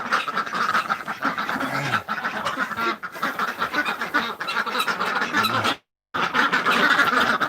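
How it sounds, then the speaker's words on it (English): Farm ducks quack loudly and continuously nearby, a busy overlapping chorus of honking calls with a brief gap near the end. "Yeah, ducks."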